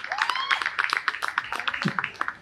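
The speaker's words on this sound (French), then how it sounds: "On peut applaudir pour M." Audience at a stand-up comedy show breaks into quick, lively clapping, a dense burst of near applause with a few voices mixed in.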